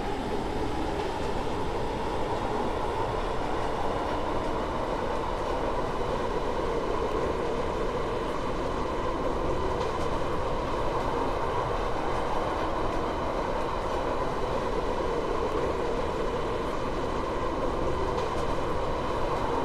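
A train in the Roblox rail game Stepford County Railway runs on a Stepford Connect service toward Rayleigh Bay, giving a steady, continuous rumble and drone at even loudness throughout, with no voices.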